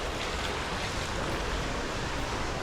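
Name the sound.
large waterfall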